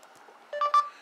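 Voice search beep in Google Chrome on a Samsung Galaxy Note 3 phone: two short, bright electronic tones in quick succession, clear and close, following a faint moment of quiet.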